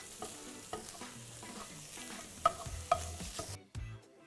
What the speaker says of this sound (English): I want to like sear all of the outside of the mince